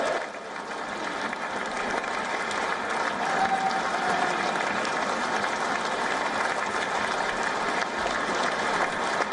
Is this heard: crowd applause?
yes